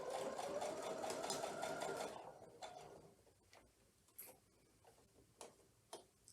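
A sewing machine stitches a herringbone quilt block with a fast, steady mechanical whir for about two seconds, then stops, followed by scattered faint clicks and taps of the fabric being handled.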